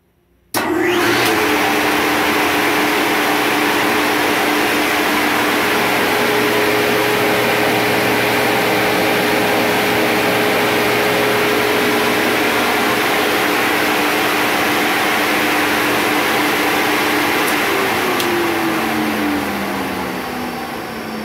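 A 30 hp rotary phase converter motor starts up with its start capacitors briefly engaged, then runs with a loud, steady hum and whine for about twenty seconds. No voices are heard over the motor.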